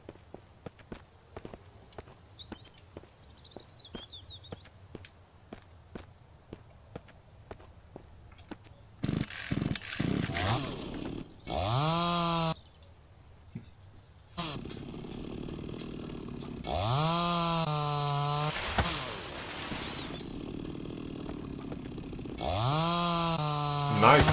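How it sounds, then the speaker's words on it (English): A chainsaw in the Mist Survival video game cuts trees, with repeated rising and falling engine revs in bursts alongside footsteps on the ground. "I know that this chainsaw, it is almost gone, but it should last at least for a couple of trees."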